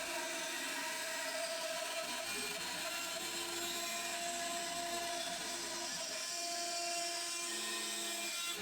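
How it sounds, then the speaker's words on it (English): A bandsaw cuts the outline of a knife blade scraper, giving off a steady, fairly faint whine with a slight rise and fall in pitch as it works through the curves. "I used the bandsaw to cut out the shape."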